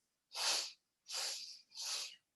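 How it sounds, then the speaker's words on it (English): Three forceful open-mouthed breaths pushed out on a breathy ha, each a loud airy burst lasting about half a second, spaced evenly with short silences between them. "a long exhalation with the ha or ha sound"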